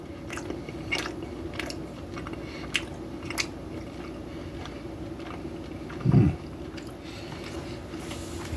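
A piece of scored sirloin steak is chewed close up, with soft, wet mastication and occasional faint clicks, and one brief, louder muffled bite or thump near the end.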